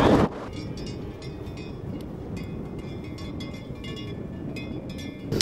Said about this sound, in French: On est sur les crêtes. Il y a un vent à décoiffer.